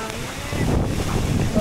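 Open-air breeze rushes steadily across the microphone outdoors in a rural spot among trees, a continuous low buffeting that swells slightly partway through, with no talk.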